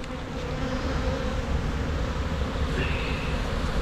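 Honeybees at an open hive give a steady, close, even drone of buzzing that holds at moderate level throughout, with no voices.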